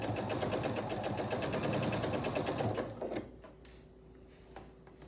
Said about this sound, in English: I'll take it to the machine, same thing, 1/4 inch seam along each of the 4 strips.